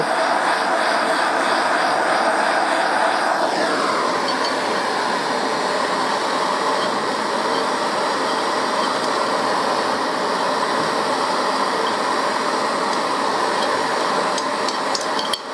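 A torch heats a part on a Harley Davidson Deuce motorcycle, giving a loud, steady, unbroken roaring hiss that holds evenly throughout with no talking.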